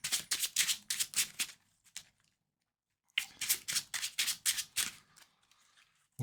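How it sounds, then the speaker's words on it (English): A Marvel Champions player card deck riffled in two bursts of quick, crisp card flicks, close and clear, separated by a short pause, with no talking. "We're going to shuffle up our player deck."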